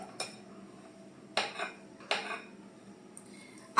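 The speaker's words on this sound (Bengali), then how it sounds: "এখানে আমি ননস্টিক কড়াই ব্যবহার করলাম।" A nonstick wok used for making pancakes clanks and scrapes as it is handled, three or four sharp metallic knocks spaced apart against a quiet kitchen background, close and distinct.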